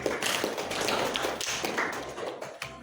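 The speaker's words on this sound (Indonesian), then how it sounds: "beri aplaus dulu untuk Inari" A classroom at a Jakarta vocational high school breaks into applause for a student: a dense, steady patter of many hands clapping fills the room for about three seconds, then thins toward the end.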